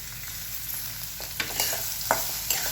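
Coriander and tender radish leaves are stirred into grated radish chutney in a pan over a soft sizzle, with a few distinct scrapes near the end and no voices.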